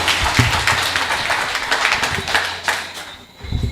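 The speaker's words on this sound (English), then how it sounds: "So please give him a round of applause as we welcome him to the podium." Town hall meeting audience in Castries South East applauds as a speaker is welcomed to the podium, a brief burst of clapping with a few louder nearby claps, tapering off near the end.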